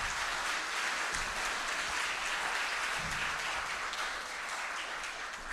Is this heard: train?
no